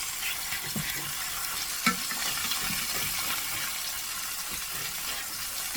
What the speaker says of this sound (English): I am just going to keep moving these around a little bit so that all of it gets nice and brown